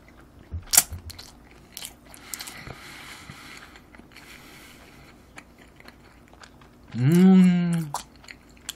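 Tuna sushi wrapped in seaweed is bitten and chewed close to the mic, with soft crunches scattered across quiet moments, then a brief loud voiced exclamation near the end.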